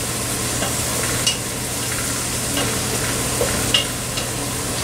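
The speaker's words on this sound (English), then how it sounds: "Stir very fast because these things burn really, really quickly." Ingredients fry fast in a hot pan for pasta carbonara, a steady bright sizzle with a few sharp clicks and scrapes from quick stirring, close and continuous with no voices.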